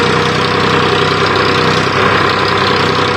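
A tractor engine labours loudly while pulling a cultivator through a field being prepared for sowing cotton, a constant close diesel drone with a steady knocking pulse.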